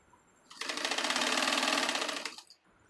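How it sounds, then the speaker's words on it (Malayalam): A sewing machine stitches a seam on a half-collar V-neck coord set, one steady, rapid two-second burst of close, buzzing stitching that starts and stops cleanly in a quiet room. "ഒരു ഇഞ്ച് കയറ്റിയിട്ട് ഞാൻ ഒന്ന് തയ്ച്ച് നിർത്തുന്നുണ്ട്"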